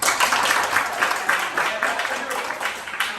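An audience at a storytelling event claps steadily for a few seconds, a dense patter of many hands with some voices mixed in.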